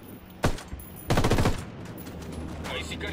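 Sharp bursts of gunfire in the video game Ghost Recon, a single shot followed by a rapid volley, then a lingering low rumble.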